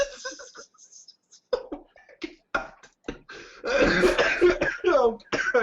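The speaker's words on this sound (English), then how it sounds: "coughing hurts so bad" A person clears their throat and coughs in several short, close bursts amid breathy sounds and brief vocal noises, with light laughter-like breaths mixed in.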